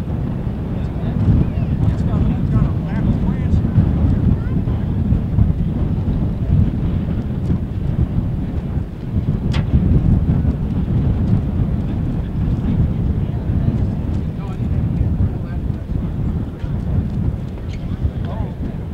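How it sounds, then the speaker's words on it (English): A P-51 Mustang warbird's piston engine in flight, a steady, loud, low droning roar that holds for the whole stretch, with muffled voices beneath it. "I've been flying P-51 since 1984."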